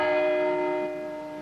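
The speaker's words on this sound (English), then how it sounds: "from church bells in all corners of America" Church bells ring out across an American town on the 9/11 anniversary, a sustained bright metallic tone with rich overtones that slowly fades after the strike, heard alone without voices.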